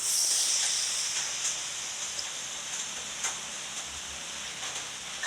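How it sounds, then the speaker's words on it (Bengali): Marinated small fish hit a hot wok and sizzle with a bright, steady hiss that slowly settles, with a few faint pops over the frying. "কড়াইতে মাখানো মাছগুলো দিলাম"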